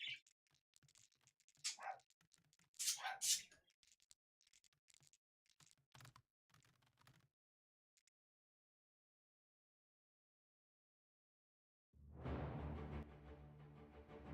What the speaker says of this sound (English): The dog outside going crazy.